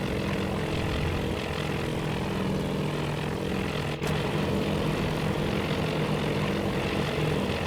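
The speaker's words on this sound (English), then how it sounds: "these 4 bombers, they're still coming in with their ordnance" Steady droning roar of propeller bomber engines approaching in a naval combat video game, loud and continuous throughout with a brief dip in the middle.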